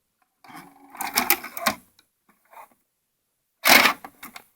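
A 1988 Panasonic Omnivision PV-4760 Hi-Fi Stereo VCR mechanism threading its tape, short close bursts of whirring and clicking motor and gear noise separated by brief silences.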